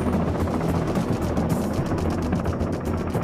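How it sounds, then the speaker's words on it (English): Steady, loud helicopter rotor noise with a dense rhythmic chop, continuous throughout and close by, with no voices. "the noise made by its rotors"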